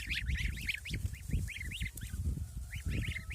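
A chorus of high, peeping chirps from young geese, repeated in quick bursts over a low, rumbling background.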